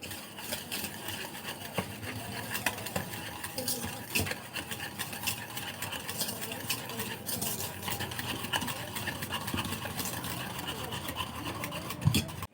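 Ghee and sugar stirred together in a pan for homemade biscuits, a steady scraping and swishing that continues without pause, close and moderately loud, with no talk over it.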